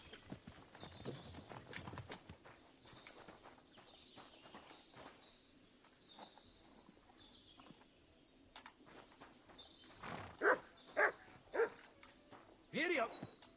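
In Kingdom Come Deliverance 2, a horse-drawn coach clip-clops along in steady hoofbeats, with birdsong and a few louder hoof strikes later. People talk over it.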